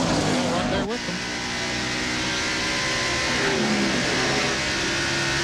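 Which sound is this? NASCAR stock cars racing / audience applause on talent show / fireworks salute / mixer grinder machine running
NASCAR stock cars racing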